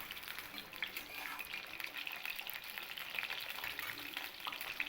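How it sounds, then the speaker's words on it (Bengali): Potatoes frying in oil for a vegetable khichdi, shallow-fried plain without salt or turmeric: a steady, close, continuous sizzle with faint crackles and no voices. "প্রথমে আলুগুলোকে খুব ভালো করে আমি ভেজে নেব।"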